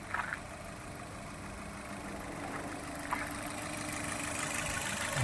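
A 2021 Maruti Suzuki Baleno Zeta petrol car engine idles with a steady, fairly quiet hum and faint mechanical ticking, continuous throughout with no talk.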